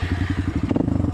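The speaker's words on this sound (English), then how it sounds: "Dual sport bike." A dual sport dirt bike engine is throttled hard, making a rapid, choppy pulsing roar with rattly mechanical clatter. It sounds fairly close, with no talking.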